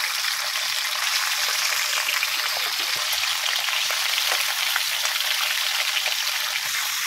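Pork liempo fat browns in a hot pan with a dense, steady sizzle and crackle that stays loud and even throughout, with no talk.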